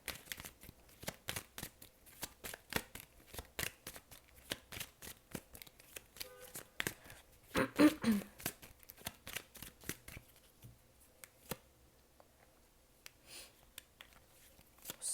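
Tarot cards being shuffled in a dense run of crisp riffling flicks and taps, close and fairly quiet, with a brief burst of louder handling midway before the shuffling thins out.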